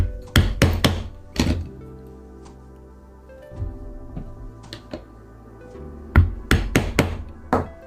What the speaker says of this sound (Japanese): 反対側も同じように穴を開けます。